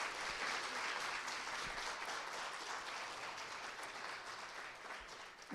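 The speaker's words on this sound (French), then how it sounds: "Je pense qu'on peut lui donner une bonne grosse main d'applaudissements." An audience at a public health summit applauds a speaker, a dense continuous clatter of many hands clapping at steady strength throughout, with no voices over it.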